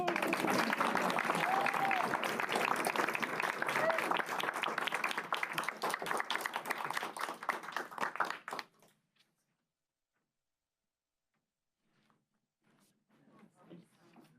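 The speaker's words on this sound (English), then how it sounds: "ladies and gentlemen, please, a big round of applause for Jordan" Audience at a school board meeting applauds a student being honoured, a dense burst of clapping lasting about eight seconds that stops abruptly, followed by near silence and faint talk.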